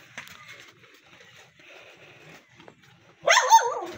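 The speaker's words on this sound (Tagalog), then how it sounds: "Ay, may aso." After a few quiet seconds of faint background noise, a dog lets out a sudden, loud bark near the end.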